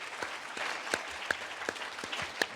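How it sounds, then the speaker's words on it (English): An audience applauds panelists at the close of an innovation session, with scattered hand claps standing out from a steady wash of clapping, moderately loud and without voices. "If you can give the applause here to the panelists."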